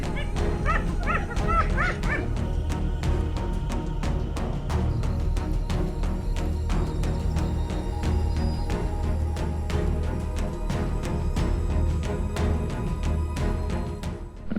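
A hyena clan calls around a leopard at a kill, a dense run of yips, whoops and whimpering cries repeating throughout over a low steady rumble.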